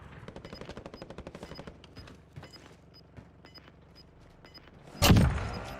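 Rapid automatic gunfire rattles in a steady burst during a Warzone match, followed by a few spaced shots and then a sudden loud, heavy blast near the end.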